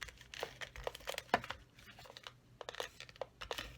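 Tape for a handmade card is pulled and pressed down, producing close crinkling and sharp tearing snaps in irregular bursts, one louder rip near the middle, with no voices.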